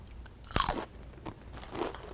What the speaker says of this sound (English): For most of us, eating a potato chip sounds like this.